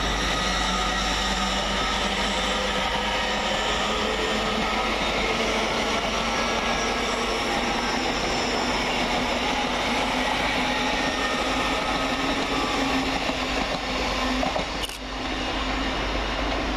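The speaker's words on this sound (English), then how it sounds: "departing the opposite direction is 801-2018, working the 1530 LNER service from York to London King's Cross" An LNER Class 801 electric train departs Peterborough station on a York to London King's Cross service, a steady loud rumble and hum holding throughout with a brief sharp disturbance near the end.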